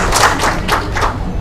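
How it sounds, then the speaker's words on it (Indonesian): Clapping hands from an audience at an alumni grand assembly in Makassar: a short run of loud, rhythmic clapping bursts that swell and fade together, close and steady, with no talk over them. "Tepuk tangan dulu"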